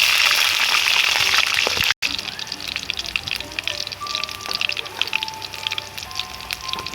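Chopped green chilies drop into hot oil for a mutton cashew curry, setting off a loud burst of sizzling that eases into scattered popping and crackling.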